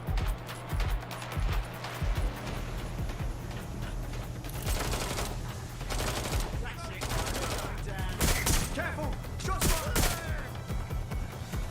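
Video game gunfire crackles in dense bursts and rapid volleys, with heavier clusters of shots in the second half over a steady low hum of game sound.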